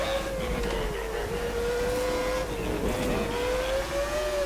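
Racing cars from New Star GP, a 1990s Grand Prix season on a wet track, drone continuously with a sustained engine whine that rises and falls in pitch, steady and loud throughout.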